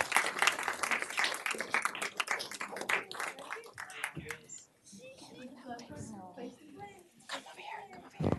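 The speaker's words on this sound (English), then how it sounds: "Let's give them a warm clap in." Clapping from an audience at a city council meeting, a burst of brisk hand claps for a few seconds that fades into murmuring voices and shuffling, with a few claps returning near the end.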